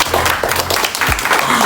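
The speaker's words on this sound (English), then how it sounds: "Round of applause." A short burst of audience applause, many hands clapping together, close and fairly loud from start to finish.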